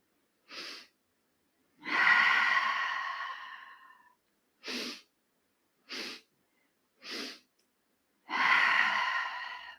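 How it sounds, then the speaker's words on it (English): Breath of Joy pranayama yoga breathing: short sharp inhales alternating with two long, loud exhales, close and alone with no talk. "So let's breathe in, in, and out."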